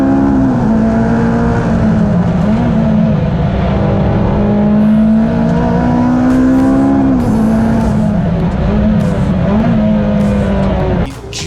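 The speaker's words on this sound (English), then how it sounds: "the Ferrari puts his foot to the floor, trying to pull himself alongside" Ferrari F430 race car accelerating hard on the Snetterton circuit during a CSCC Slicks race, a loud sustained engine wail rising and falling in pitch across several gear changes, close and continuous, with another car audible nearby.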